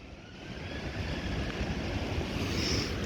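Fast-flowing flood water of the River Don in Sheffield, a steady rushing broadband wash that swells slightly and holds constant for a few seconds, heard alone and fairly close.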